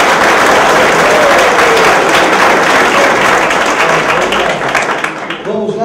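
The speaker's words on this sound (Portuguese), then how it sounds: "Palmas para o grupo 1." Audience applause for a group at a spiritist centre session, a dense, loud wash of clapping filling nearly six seconds before tapering slightly at the end, with faint voices mixed in.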